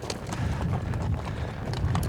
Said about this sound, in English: riding some horses, taking in the scenery